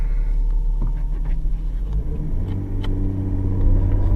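A 1990 Nissan Skyline R32 GTS-4 cruising on a test drive, a loud continuous engine and road rumble heard from the cabin, with the drone shifting partway through as the car changes speed.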